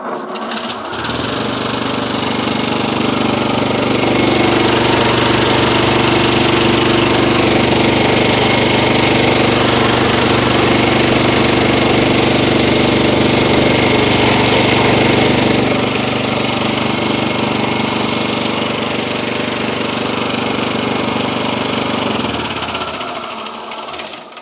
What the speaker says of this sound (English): So this is industrial polisher for polishing nice stuff, but Kevin Charles John has a great idea to